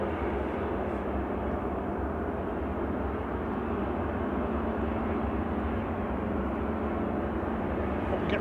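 A Ryanair airliner taxis past at Manchester Airport, its engines a steady, continuous rumbling whine held at an even level throughout, with no voices over it.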